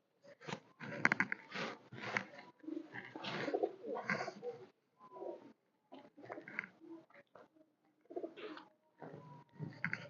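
High flyer pigeons coo and murmur close by in repeated soft phrases, with brief pauses between calls and no talking.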